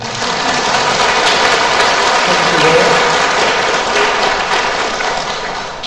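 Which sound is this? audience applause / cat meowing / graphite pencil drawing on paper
audience applause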